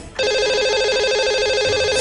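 A phone line rings out on an outgoing call to a caller, a loud, steady electronic ringback tone starting abruptly after a short quiet moment and holding clearly alone.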